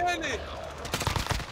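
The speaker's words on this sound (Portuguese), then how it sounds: "Dei o tiro." A quick burst of gunfire in Call of Duty Warzone, several sharp rapid cracks near the end after a brief tonal game sound, fairly faint against the game mix.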